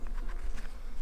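Honey bees buzz at a hive, a dense, continuous drone of many wings at close range, steady and fairly loud with no voices.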